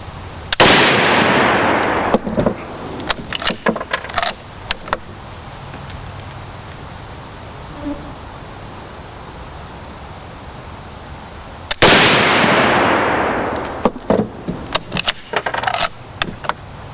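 Two loud gunshots about eleven seconds apart from a gun firing old, corroded military surplus ammunition, each a sharp blast with a ringing decay followed by scattered metallic clinks and clatter.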